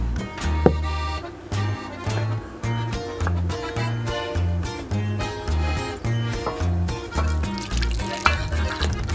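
A half cup of milk pours into a bowl for a make-ahead cake batter, a steady close liquid trickle and glug with a few drips, continuous and fairly loud, no voice over it.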